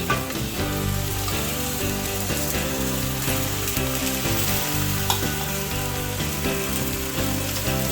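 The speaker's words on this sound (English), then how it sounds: "Get a good sear on it." Meat searing in a hot pan, a dense, even sizzle with occasional stirring scrapes and clicks, loud and close throughout with no one speaking.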